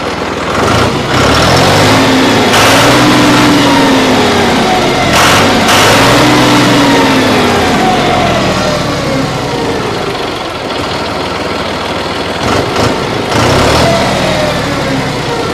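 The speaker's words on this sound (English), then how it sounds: "again, tractor starts" A 2012 John Deere 5055D tractor's 55-horsepower diesel engine runs loudly and close, revving up and settling back several times in a steady, throbbing drone.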